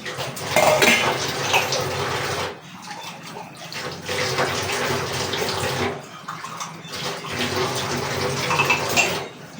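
Dishes, pots and utensils being washed by hand, with running water splashing and metal vessels clanking and scraping steadily for several seconds, close and fairly loud, with brief pauses in between.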